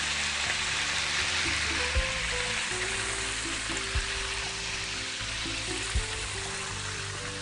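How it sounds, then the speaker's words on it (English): Apple juice sizzling in a hot pan while being deglazed with a spatula, a steady hiss and bubble with periodic low scraping thumps about every two seconds, moderately quiet and without talk. "I'm going to use a spatula to deglaze this."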